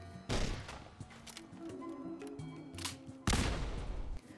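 Grenade launcher in Fallout 4 fitted with a bounce barrel, firing grenades that bounce before exploding: two loud booming blasts a few seconds apart, with clattering thumps and rattling debris between them.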